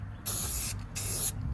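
Aerosol spray paint going onto an engine block as a second coat: two close, bright hissing bursts of about half a second each, separated by a short pause.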